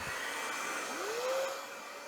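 A matte black Paul Mitchell hair dryer blows with a steady, loud, close rush of air and a motor whine that rises in pitch and then holds level, with no voices.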